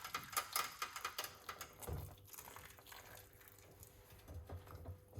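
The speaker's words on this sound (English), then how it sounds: "pour some hot water" Hot water is poured into a pot around a glass jar, making a quiet, uneven trickling splash with faint clicks and knocks scattered through it.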